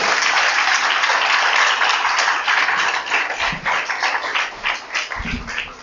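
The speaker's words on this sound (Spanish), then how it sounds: "¿Cuántos dan un aplauso a Dios por eso?" A church congregation in Cabimas applauds God during a 2021 sermon. The applause is dense and steady at first, then thins into scattered, uneven claps with some low thumps near the end.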